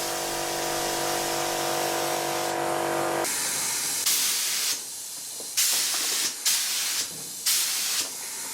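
Rust primer sprayed from a can onto exposed areas of a Daihatsu Charade car body during restoration: a steady hiss, then several separate bursts of spray in short passes, close and alone.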